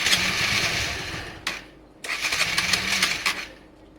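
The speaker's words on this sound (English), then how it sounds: "first start up after new carb work this morning. This should start fairly easily" A Honda Varadero 125 motorcycle starting up after carburettor work with no choke: the engine turns over and catches, falters briefly, then fires again and runs roughly at close range.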